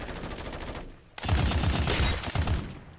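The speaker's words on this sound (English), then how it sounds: "So for example, I'm going to start shooting." Rapid automatic gunfire in the shooter game Farlight 84, two loud sustained bursts separated by a brief pause, close and dominant.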